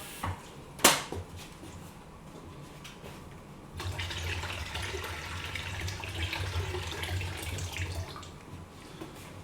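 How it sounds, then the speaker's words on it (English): Tap water running into a bowl in a kitchen, starting with a sharp clink and then a steady splashing flow, moderately close and continuous to the end. "I just need to get a cold bowl of water ready for the eggs to sit in"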